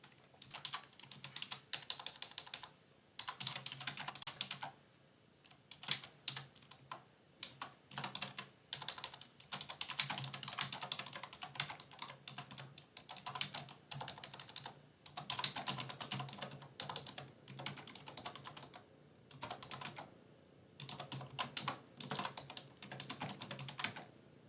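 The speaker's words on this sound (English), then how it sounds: "I'll type it out." Someone types on a computer keyboard in quick irregular bursts of close, crisp key clicks separated by short pauses.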